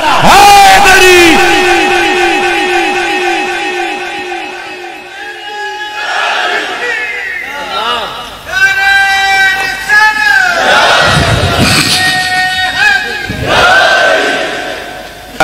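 A large crowd at an Urs gathering for Baba Sakhi Syed Murad Hussain roars religious slogans back in loud, repeated bursts of chanting and shouting. The slogans swell and fade in waves, with one voice leading between the crowd's replies.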